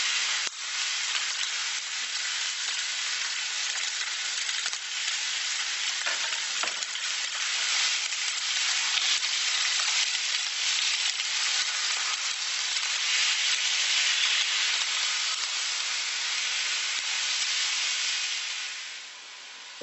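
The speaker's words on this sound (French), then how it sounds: "faites revenir la viande avec une cuillère à soupe d'huile" Chicken meat sizzles steadily in a spoonful of oil in a saucepan, a dense, continuous frying hiss with occasional stirring scrapes, close and fairly loud throughout before easing slightly at the end.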